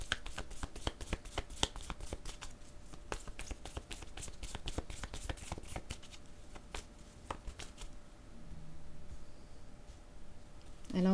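A deck of cards being shuffled for a card reading, a rapid run of crisp, close riffling clicks that thins out after several seconds into softer handling sounds.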